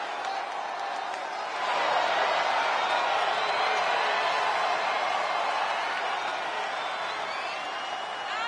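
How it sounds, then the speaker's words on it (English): Arena crowd in the WWE 2K23 wrestling video game, a broad wash of applause and cheering that swells after a quiet start and holds steady, loud and continuous. "All I hear is applause"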